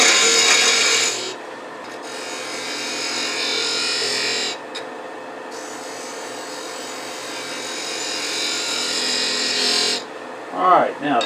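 A gouge scrapes and rasps against exotic wood spinning on a lathe while a sphere is turned, in continuous loud passes broken by a few short pauses, with brief light knocks at the end.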